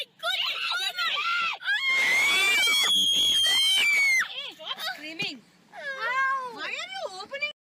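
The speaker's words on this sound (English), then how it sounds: "The kids in the back started screaming" Children shriek in the back of a car as a bear opens the door, several loud, high, wavering screams in overlapping bursts with brief gaps between them.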